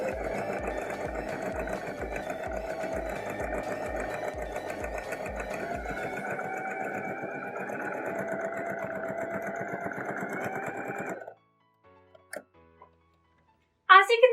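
A sewing machine stitching in the ditch of a neck seam to secure a dress facing hums steadily and close for about eleven seconds, with a rapid mechanical tapping early on, then cuts off into near silence broken by a few small clicks.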